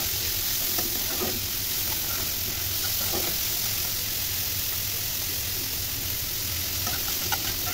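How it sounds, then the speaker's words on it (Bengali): Chopped onion and chili frying in oil in a frying pan make a constant hissing sizzle with a few faint stirring knocks, close and even throughout. "এর ভিতরে তেল দিয়ে দেবে পেঁয়াজ কুচি, মরিচ কুচি দিয়ে কিছুক্ষণ নাড়াচাড়া করে ভেজে নিতে হবে"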